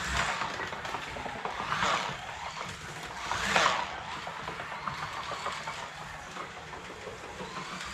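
Small Policar toy car wheels clatter over track section joints with a quick, light rattling patter, steady and moderately faint, with occasional louder swells as something passes.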